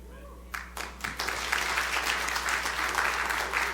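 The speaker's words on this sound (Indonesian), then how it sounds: "Tepuk tangan lebih meriah lagi bagi Tuhan." Church congregation applauding for God, clapping swelling from a few scattered claps into a full, steady round of applause from a crowd, fairly close and sustained.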